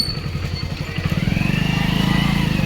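A motorcycle engine runs close by on a rainy ride to a primary school's 15 August flag-hoisting event, with a steady low putter that grows slightly louder and more rhythmic as it pulls in.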